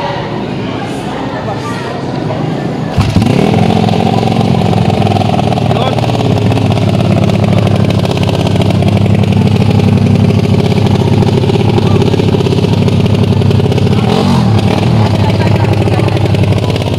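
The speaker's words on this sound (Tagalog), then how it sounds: "So maririnig natin ang sound check ng Nice 125." A modified Honda RS 125 motorcycle, converted from carburettor to fuel injection with a dual throttle body, idles roughly and then holds a loud, steady engine drone close by, rising briefly near the end.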